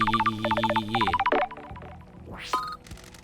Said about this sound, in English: A phone call from the judge is unexpected.